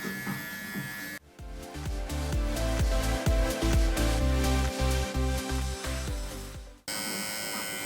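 Electric hair clipper with a 4.5 mm guard attachment trimming a beard, a close steady buzzing hum with a rhythmic low pulsing as it passes through the hair, running continuously for several seconds.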